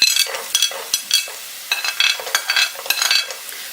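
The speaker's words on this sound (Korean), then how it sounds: "대파를 볶아서 가볍게 향을 내줍니다." Chopped green onion is stir-fried in a pan for Chinese shrimp fried rice, bursts of crackling sizzle rising and falling with each toss and stir, close and loud, with no voices.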